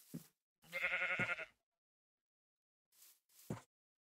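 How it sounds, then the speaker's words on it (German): Sheep bleats from the video game Minecraft, one long wavering bleat followed by two short ones after a pause, clear and isolated against silence. "Wie ihr seht, das Schaf springt ab und zu."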